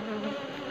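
A wild honey bee colony drones right by a hive box, a continuous close buzzing hum of many wings with no voices.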